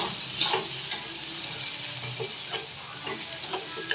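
Onions sizzling and frying in a pan while making paruppu urundai kulambu, a steady soft crackle with occasional stirring scrapes, fairly quiet and with no talk.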